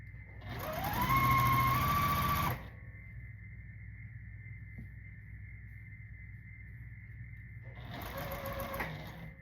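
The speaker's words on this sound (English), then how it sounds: "I'm gonna take and flip it and sew it this way." A sewing machine stitches quilt block pieces in two loud bursts, a longer run up front and a shorter one near the end, separated by a quiet stretch with a steady hum and a faint click.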